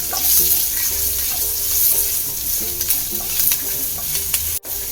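Chili powder and turmeric powder frying in a pan for a Kerala leafy thoran, a continuous loud sizzle with scraping stirs and occasional clinks of the spoon against the pan.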